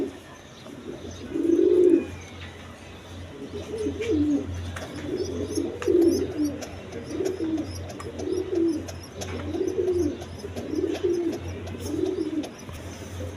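Red Gorra pigeons coo in a steady series of soft, rounded calls repeating roughly every second, close by over a constant low hum.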